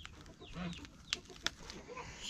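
Soft, faint chicken clucks scattered across a quiet outdoor background, with a couple of sharp brief clicks.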